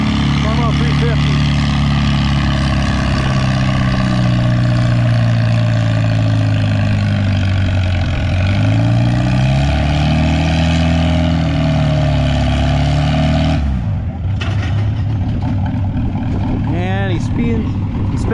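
A loud tractor engine roars steadily at a tractor pull, its pitch rising and falling as it labors pulling a sled, then drops off and revs again near the end, with crowd noise beneath.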